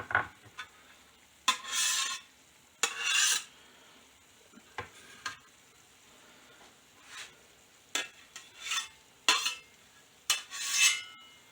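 A bench scraper pushes garlic into frying onions in a pan, giving quiet, irregular bursts of scraping and rasping separated by near silence, with faint sizzling underneath.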